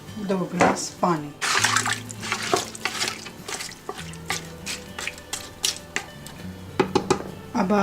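Water splashes and pours in bursts into a metal pressure cooker holding goat meat, garlic and onion, with clinks and drips between pours; a voice speaks under the sounds.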